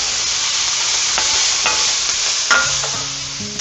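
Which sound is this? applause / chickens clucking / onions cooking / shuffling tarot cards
onions cooking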